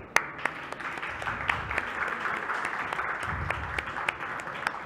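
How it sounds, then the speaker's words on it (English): Audience applause for conference panelists at a football industry digital transformation event, steady mass clapping sustained throughout with a few sharper individual claps standing out. "let's go ahead and give a big round of applause to our next panelists"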